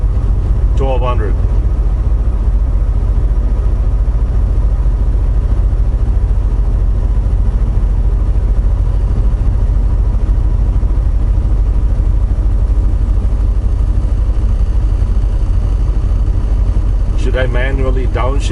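A loaded semi truck's diesel engine drones steadily and loud while driving, with a deep, continuous low rumble; brief voices are heard near the start and end.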